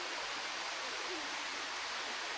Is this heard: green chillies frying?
no